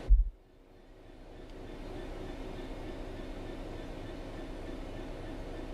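A train in Train Sim World coasts downhill without power, giving a steady low rumble and rolling noise that builds after a brief thump at the start and then holds even and continuous.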